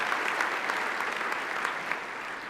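Applause from a crowd at a city's State of the City address, honoring the council, city staff and community volunteers: dense, sustained clapping that holds at an even level throughout.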